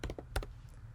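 A web address being typed on a computer keyboard: a quick burst of several crisp key clicks, close and moderately loud, then a brief pause.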